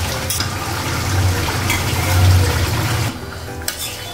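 Onions and potatoes for a Bengali mutton curry being stir-fried in a pot, a steady close scraping and faint sizzle with a low rumble, the stirring easing off near the end.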